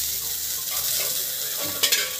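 Cumin and fenugreek seeds sizzling in hot oil for an egg curry, a dense, even hiss up close with a couple of sharp spits near the end.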